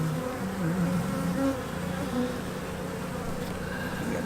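Honeybees hum in a steady, dense drone around an opened hive during a spring inspection, a close continuous buzz with shifting tonal wavers and no talking.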